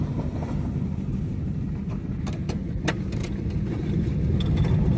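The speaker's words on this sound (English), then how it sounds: "Put the truck down in second gear, just take it easy down through here." A truck eases downhill in second gear over a rough mountain road, its engine a low steady rumble with cab rattles and a few sharp knocks from the bumpy surface.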